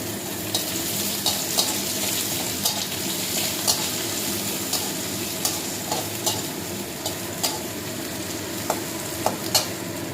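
Chopped onion fries in a pan with a steady, fairly loud sizzle, while a utensil scrapes and clicks against the pan at irregular intervals.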